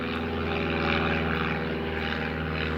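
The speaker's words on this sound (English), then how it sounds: "I don't think that single propeller prop plane is really going to present much of a challenge" A single-propeller plane drones steadily overhead, a loud continuous engine hum with a pulsing beat that holds level throughout, with no speech.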